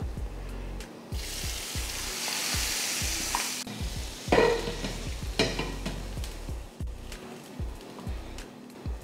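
Chili powder fried in hot oil crackles loudly as it is poured into a gravy, followed by a bubbling hiss and intermittent stirring and scraping in a pot, with no speech.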